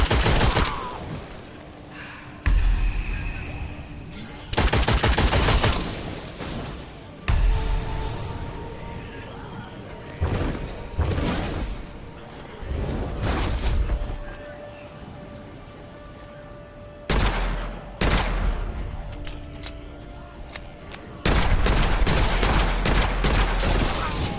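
Rapid bursts of gunfire from the video game Witchfire as witches are shot, loud volleys separated by brief lulls and scattered single shots across the whole stretch.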